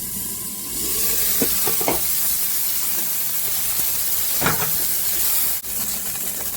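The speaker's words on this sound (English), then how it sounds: "we're going to saute the produce, the veggies" Vegetables for pineapple sweet and sour pork sauté on a stovetop pan, a loud, continuous steamy hiss with a few bright scraping stirs of a utensil and a brief dip near the end.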